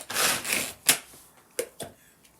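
A knife chops walnuts coarsely on a board: a few quick rubbing scrapes followed by three or four separate sharp wooden knocks, close and fairly quiet, with no talking.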